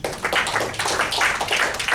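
Church congregation applauding during a sermon, a dense, steady wash of many hands clapping at close range that fills the whole short stretch with no voices over it.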